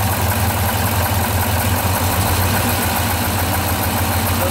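Engine idling steadily with a light throttle, a faint rhythmic ticking from a knocking valve lifter riding over the low, continuous hum; no voices.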